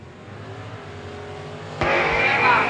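A 1986 Ford Mustang at a drag racing starting line, an engine idling low before bursting into a loud, sudden roar of hard acceleration that holds to the end.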